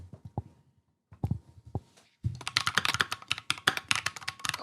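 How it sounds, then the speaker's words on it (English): A few isolated clacks are followed by a rapid, steady run of sharp, clicky mechanical key presses, close and crisp. "You've gone down the clicky keyboard rabbit hole, haven't you?"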